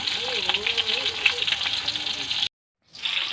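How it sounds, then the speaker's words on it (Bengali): Steady crackling sizzle of fish frying in a pan, with a faint voice murmuring underneath; it cuts out briefly and then resumes. "মাছ ভাজতে দিয়ে দিয়েছি।"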